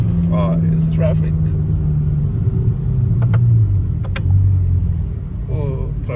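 Steady low rumble of road traffic with car engines idling and humming nearby, while people talk briefly over it.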